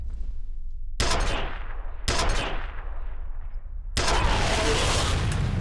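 Video-game gunfire from F.E.A.R. comes in loud bursts of rapid automatic shots and blasts, with each burst trailing off into a decaying echo before the next one starts.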